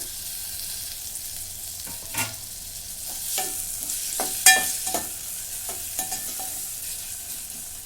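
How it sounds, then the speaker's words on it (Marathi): A coconut-coriander paste and tomato roast in a pan at home, making a soft frying sizzle broken by several distinct scraping stirs of a spatula. No voices. "दोन मिनटं भाजून घेते"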